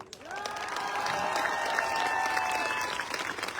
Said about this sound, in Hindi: तुम 1 करोड़ को ढूंढ रहे हो, ताली बजाओ ढंग से।